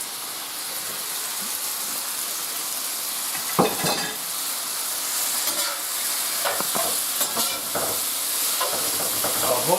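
Leftover roast beef sizzles steadily in a hot pan, a close, continuous crackle of frying with scattered scraping knocks and clinks as it is stirred.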